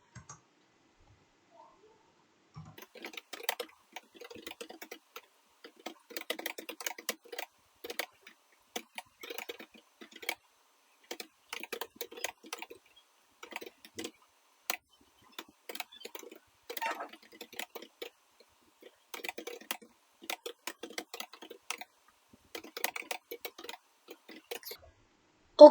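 Light, uneven bursts of clicking keystrokes on a computer keyboard, quiet and close, with short pauses between runs of typing.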